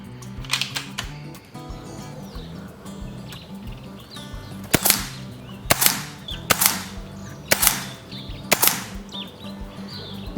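A BRK Ghost air rifle fires JTS 22-grain .22 pellets on an outdoor 30-meter range in wet conditions, about six sharp, close cracks at uneven intervals over a soft background with faint birdsong.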